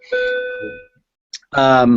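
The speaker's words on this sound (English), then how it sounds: "That's our lunch bell." A school lunch bell rings nearby, as a sustained tonal chime that holds, fades, and then sounds again, loud and clear.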